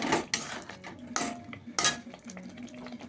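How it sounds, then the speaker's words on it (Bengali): Butter chicken being stirred in a pan, a utensil scraping and clinking against the metal in several sharp, irregular strokes, close and clear with a faint sizzle beneath. "দিয়ে ভালো করে মিশিয়ে নেব"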